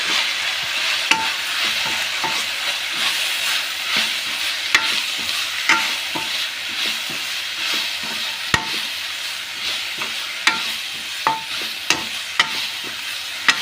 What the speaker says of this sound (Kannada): ಇಷ್ಟನ್ನು ಹಾಕಿ ಚೆನ್ನಾಗಿ ಮಿಕ್ಸ್ ಮಾಡ್ಕೊಳ್ಳಿ